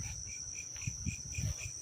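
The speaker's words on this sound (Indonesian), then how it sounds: "Wis suara jangkrik-jangkrik." Crickets chirp at night around an abandoned house, a steady high trill with regular pulsing chirps, joined by a few faint low thumps and rustles nearby.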